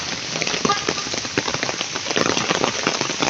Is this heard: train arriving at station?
no